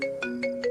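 A phone ringtone chimes in a steady repeating pattern of short melodic bursts, clear and close with no voices over it.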